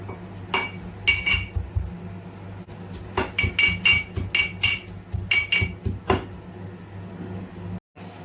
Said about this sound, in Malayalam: ഗാർലിക് ചതച്ചെടുത്തിട്ടുണ്ട്